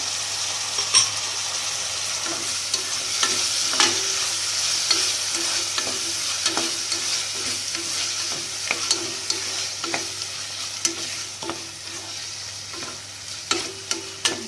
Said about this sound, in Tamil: அதனால் லைட்டாக வதக்கிட்டு தக்காளி சேர்த்துப்போம்.